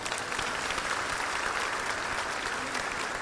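Steady applause from a sizable crowd at a legislative delegation update in the Monroe Civic Center, continuous and fairly loud throughout.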